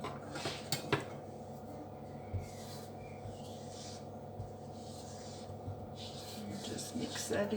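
Butter and oil being stirred in a pan for osso bucco, with soft scraping, rubbing and occasional utensil clinks against the pan, quiet and close, under a faint voice.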